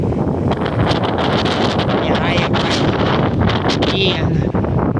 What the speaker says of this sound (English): I can't do nothing about the wind